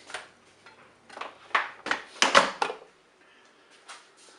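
The lid of a Cookeo electric pressure cooker is handled and set back on, giving a string of close, irregular clunks and scrapes of plastic and metal, with quiet gaps between them.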